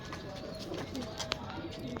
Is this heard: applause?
no